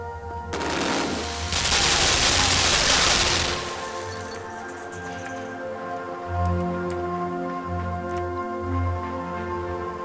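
Gunfire in the side-scrolling game Limbo: a dense burst of rapid shots roars for about three seconds near the start, then fades into a low humming ambience with soft ticks and low thuds.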